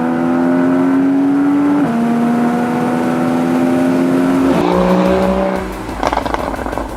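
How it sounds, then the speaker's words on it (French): A Porsche Boxster 981 GTS 3.4 330 hp PDK engine revs hard and loud, its pitch climbing and dropping through shifts, then settling to a rough, throbbing idle near the end. "c'est le caractère de ce moteur. Il est rageur, il prend des tours, il a un son magnifique."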